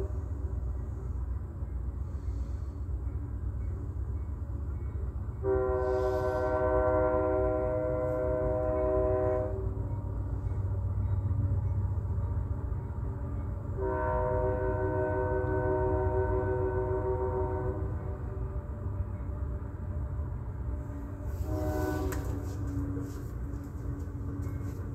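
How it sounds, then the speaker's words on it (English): Southbound Union Pacific freight train led by three AC4400 locomotives and an SD70M, with a low continuous rumble under repeated long multi-tone horn blasts, two extended and one brief, sounding from a moderate distance. "we catch a southbound UP freight with three AC4400s and an SD70M in charge"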